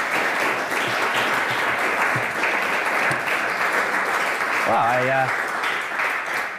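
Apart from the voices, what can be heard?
audience applause at an art auction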